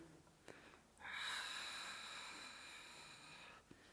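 A sharp inhalation during a Pilates exercise, a single strong breath drawn in over about two and a half seconds, close and clear in a quiet room.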